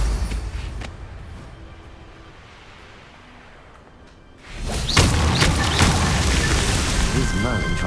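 Confringo fire spell in Hogwarts Legacy bursting with a loud, rumbling blast that swells up after a quieter stretch and lingers as a roaring, crackling wash, with a voice speaking over it.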